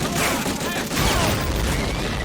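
Dense, continuous gunfire from a World War II shooter game, Medal of Honor Frontline, loud and unbroken with overlapping shots and a brief dip midway, no speech heard.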